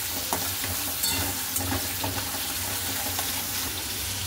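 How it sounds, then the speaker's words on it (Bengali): Potatoes sizzle steadily in a pan with turmeric and salt, a continuous hiss with occasional soft scrapes of stirring, and no talk. "আলুটা এই যে ভাজা হচ্ছে"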